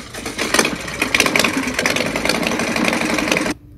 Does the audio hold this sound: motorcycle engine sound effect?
yes